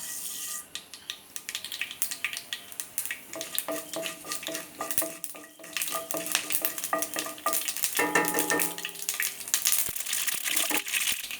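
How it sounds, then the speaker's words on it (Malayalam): Mustard seeds splutter in about two spoons of hot oil in a pan, rapid irregular pops and crackles building in density over several seconds, close and crisp, with no talking. "അതിലേക്ക് നമ്മൾക്ക് ആദ്യം തന്നെ കടുകിട്ട് കൊടുക്കാം"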